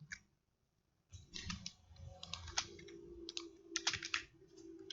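Text typed on a computer keyboard, a rapid irregular patter of close key clicks after a second of near silence, continuing in dense bursts to the end; no talking.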